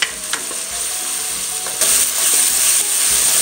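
Crushed ginger and garlic fry in a hot pan, giving a steady, loud sizzle with occasional stirring scrapes and bursts of crackle, close up and with no talk.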